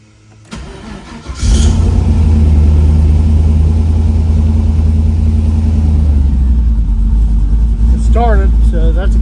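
A hot rod's engine cranks briefly, then catches and settles into a loud, steady, rumbling idle close by, running on freshly installed injectors. A short burst of voices comes near the end.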